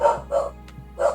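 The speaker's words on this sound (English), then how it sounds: "Sorry if everyone can hear the dogs barking." Three sharp dog barks ring out close by, evenly spaced with short pauses between them over a low steady hum.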